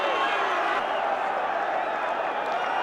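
Football crowd at White Hart Lane greets Brian Clough before Tottenham play Nottingham Forest, a steady wash of cheering and applause with a few boos mixed in, loud and continuous for the short stretch.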